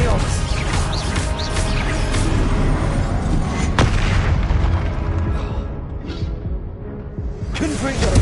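Confringo blast spells go off in a Hogwarts video game as a dense run of loud booming explosions, with bursts and rumbling, while voices sound over them.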